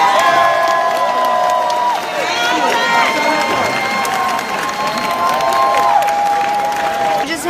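A large crowd at the California Democratic Party state convention applauds and cheers after a resolution passes. Loud, sustained clapping mixes with whoops, shouts and overlapping voices close by.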